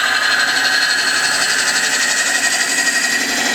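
A ring tool cuts end-grain wood on a lathe, making a continuous high-pitched shearing whir with a fast rhythmic flutter. It sounds loud and close and runs without pause, with no voices.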